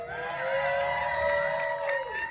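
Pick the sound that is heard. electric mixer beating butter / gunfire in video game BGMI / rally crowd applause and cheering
rally crowd applause and cheering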